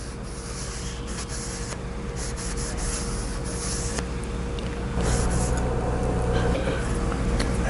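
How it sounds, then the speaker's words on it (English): Rust preventative being wiped off a machine bed for a 15-inch column bed upgrade, a continuous close rubbing and wiping swish with brief pauses, over a steady low workshop hum. "I'm going to take the bed, wipe off all the rust preventative."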